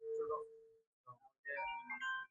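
Electronic ringtone melody from an iPhone XS on an incoming call, short tonal phrases with a brief pause, played near and clear with no talking.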